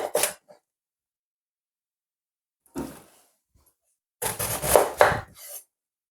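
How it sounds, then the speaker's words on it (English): A knife cuts through cabbage on a board in short separate bursts: a quick chop at the start, another near three seconds, then a longer run of crisp slicing strokes around four to five and a half seconds, with silence between. "now just gonna cut the cabbage"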